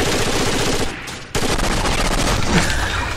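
Rapid gunfire from the co-op shooter Rainbow Six Vegas 2 bursts loud and dense, with an MP5 among the weapons, dropping out briefly before resuming in sustained volleys.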